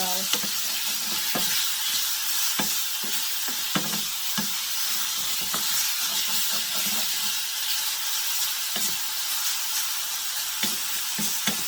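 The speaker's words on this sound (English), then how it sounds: "you don't need any oil in your pan because this meat has enough fat that once it starts to render, it'll be plenty" Thin-sliced pork sizzles in a dry frying pan for a stir fry, a constant bright hiss close by, punctuated by repeated soft scrapes and taps of stirring throughout.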